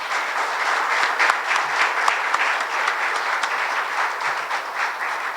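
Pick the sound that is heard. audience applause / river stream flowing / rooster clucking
audience applause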